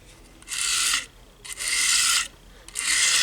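A blade edge is drawn across a Lansky 280 grit diamond sharpening stone in three distinct, evenly spaced strokes, each a close, gritty rasping scrape followed by brief quiet.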